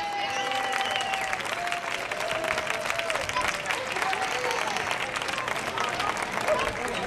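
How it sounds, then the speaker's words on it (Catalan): An audience at a school spring market festival applauds for the official photographer, with sustained crowd clapping over a faint voice in the background. "I el fotògraf oficial, un aplaudiment"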